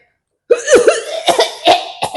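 A person gives a short burst of harsh, close coughs, three or four rasping hacks in quick succession, loud and alone after a moment of silence.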